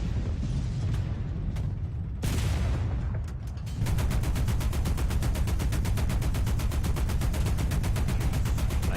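Gunfire in a video game as an enemy is shot at: scattered shots at first, then a loud, steady rapid burst of automatic fire that runs to the end, with no speech over it.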